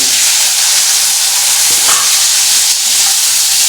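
Potatoes frying in a pan with grated ginger, a steady close broadband sizzle running throughout with faint stirring scrapes, no voices.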